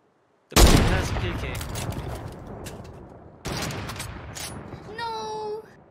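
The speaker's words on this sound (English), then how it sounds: "Oh, they're shooting back." Gunfire in a first-person shooter game: a loud burst of rapid shots that decays into a rumbling tail, then a second volley. Faint clicks and beeps follow near the end.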